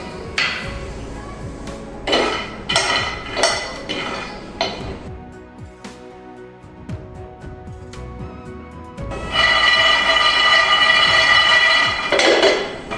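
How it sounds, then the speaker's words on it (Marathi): Peanuts are dry-roasted and stirred in a pan while a sesame sweet is being made. The pan gives several short bursts of rattling, clinking scrapes with pauses between them, then a longer sustained rattle near the end. "तर असेच आपण शेंगदाणे भाजून घेऊ"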